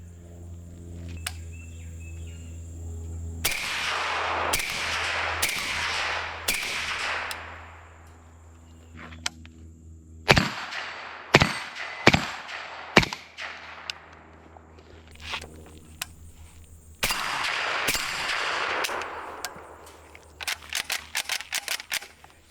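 Suppressed shots from a modern AK rifle ring out in scattered groups, each a sharp crack with a brief decaying tail, some spaced several seconds apart and others in quick bursts, fairly close and with no talking.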